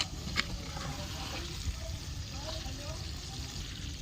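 Water poured into a pot of chicken curry gives a soft, steady splashing and trickling, faint and close, with a light voice in the background.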